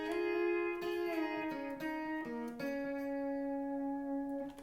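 A pedal steel guitar plays a song intro, its sustained notes sliding smoothly between pitches in a clear, close melodic line with no voice over it.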